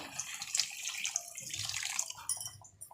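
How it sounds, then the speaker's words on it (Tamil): Tamarind water being poured into a fish curry, a steady close pouring splash that tapers and fades out near the end. "நம்ம வச்சிருக்கிற புளி தண்ணியை ஊற்றிடுவோம்."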